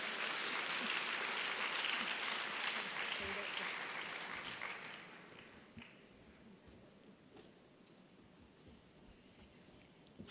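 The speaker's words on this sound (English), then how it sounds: "please give a big applause for the excellent speaker" Audience applause at the 2019 ICN nursing congress main session rings out steadily from a large hall, then fades over a few seconds into quiet room tone with a few scattered claps.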